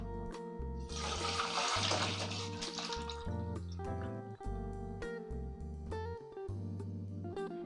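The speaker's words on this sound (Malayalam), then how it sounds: "ഇതിലേക്ക് നമുക്ക് കുറച്ച് തണുത്ത നമ്മൾ ടാപ്പിൽ നോർമൽ വാട്ടർ കുറച്ച് ഒഴിച്ചു കൊടുക്കാം" Cold tap water is poured over cooked ada rice flakes in a strainer, making a brief rushing splash that fades into trickles, all set against steady background music.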